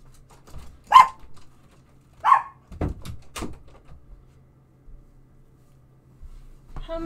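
A pet dog barks in a home during a gaming session, giving a few separate loud barks close by with short pauses between them, followed by quieter thumps and faint household noise.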